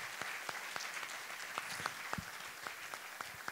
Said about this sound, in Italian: Franco Villani, vi prego un applauso grande.